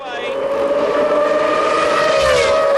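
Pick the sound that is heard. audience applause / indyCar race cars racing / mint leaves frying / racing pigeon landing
indyCar race cars racing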